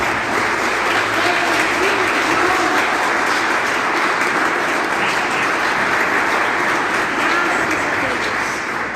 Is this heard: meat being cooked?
no